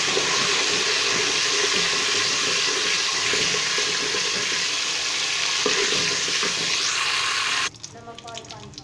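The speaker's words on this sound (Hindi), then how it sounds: "हमने ज़ीरा जो है इसको फ्राई कर लिया।" Cumin seeds frying in hot oil in a pot for rice, a loud continuous sizzle that cuts off abruptly near the end, leaving quieter kitchen sounds.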